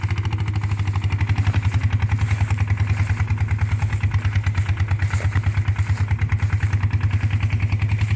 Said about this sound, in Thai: นี่ก็รถไถ อันนี้ก็รถไถ